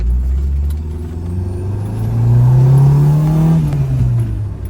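A 1986 Dodge Daytona Turbo Z accelerates along a road toward highway speed, engine drone swelling and rising in pitch mid-clip, then easing off, loud and close from inside the car.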